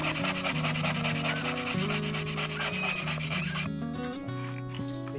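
A steel wire wheel scrubs rust off metal with a loud, continuous abrasive rasp over a steady motor hum. Near the end the scrubbing thins into rougher, uneven strokes.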